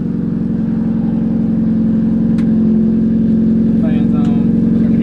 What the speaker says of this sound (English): it's very iffy if it's going to crank or not. I'll hold it out here so you guys can hear it.